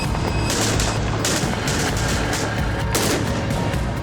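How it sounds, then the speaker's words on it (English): Dense machine-gun and rifle fire rattles without pause in a vicious firefight with AK-47s and PKM light machine guns, loud, sustained and overlapping, with sharp bursts throughout. "It's a vicious firefight."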